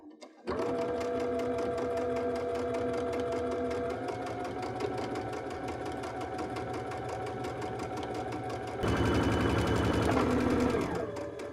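A sewing machine runs steadily stitching a pillowcase seam with a few back stitches, a fast even mechanical whir close by that starts abruptly and grows louder and rougher near the end.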